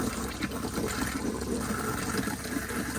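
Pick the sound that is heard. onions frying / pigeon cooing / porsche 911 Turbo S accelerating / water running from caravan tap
water running from caravan tap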